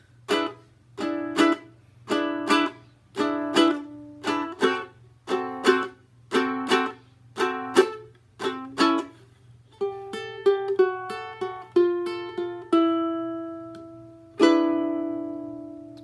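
A plucked ukulele plays a 12-bar blues turnaround, strumming a steady rhythmic pattern of short chords, then slowing into single ringing notes and a final sustained chord, close and clear.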